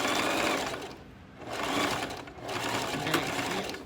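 A sewing machine back stitches fabric in three short runs of close, buzzing motor whirr separated by brief pauses.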